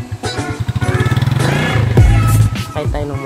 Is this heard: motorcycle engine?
yes